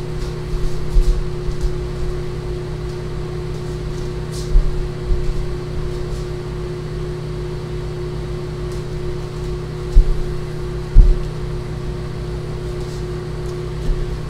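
A microwave oven hums steadily with a low electrical drone and fan whir, occasional clicks and bumps sounding nearby.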